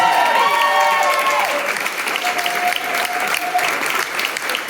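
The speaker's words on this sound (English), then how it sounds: "Give him a huge round of applause." An audience at the Slow Soiree 2025 event applauds Brian, a steady, loud wash of clapping from a crowd close by, with a few faint whistles early on.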